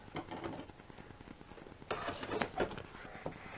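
An embroidery machine stitches a felt koala design in quick, faint mechanical rattles and ticks, quiet at first and then bursting into busier clattering runs partway through, with no voices.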